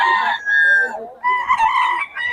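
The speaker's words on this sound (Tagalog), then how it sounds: "Magaganda manok na ito." A rooster crows up close, loud and drawn out, followed by a second crowing burst with some clucking mixed in.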